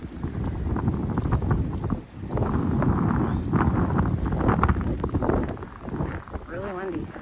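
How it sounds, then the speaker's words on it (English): Strong winter wind during a snowstorm in Michigan, roaring gusts buffeting the microphone beside a parked van on a snow-covered street, loud and continuous with a brief lull, someone talking faintly under it. "Really windy."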